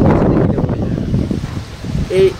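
Wind buffets the microphone in low, uneven gusts, strongest at the start and easing off, with a brief tonal sound near the end.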